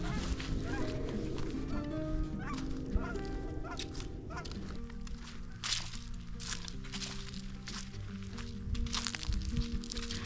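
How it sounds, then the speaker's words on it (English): Geese honking repeatedly as they fly overhead at Valle de Oro Wildlife Refuge, Albuquerque, amid a noisy outdoor background, calls overlapping and fairly distant, with a few ducks quacking mixed in. "there's a lot of ducks and geese on the water, and they are flying overhead"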